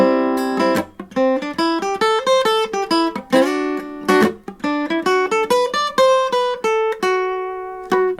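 A quick melodic lead line on guitar, single notes flowing up and down in fast runs with a few held notes, played alone and clearly.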